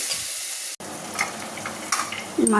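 Tomatoes and masala for a country chicken curry cooking in a pan, a soft continuous sizzle with a few stirring scrapes and a brief cut partway through, no talking.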